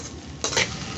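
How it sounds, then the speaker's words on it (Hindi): Roasted besan being stirred into masala bhindi in a pan, low sizzle with one brief scraping stir burst midway, close and short, no voices. "अब इसी टाइम हम जो रोस्ट करके बेसन रखे थे ना उसको हम डालेंगे"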